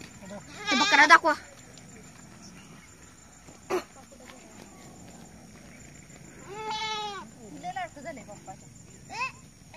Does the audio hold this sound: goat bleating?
yes